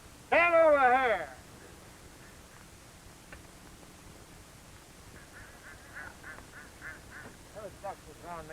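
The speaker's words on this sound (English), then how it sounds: "Those ducks are throwing me off." Several ducks quack in a loud, close burst near the start, then fainter scattered quacks follow over a quiet outdoor background on a golf course.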